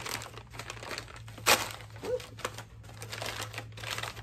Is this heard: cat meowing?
no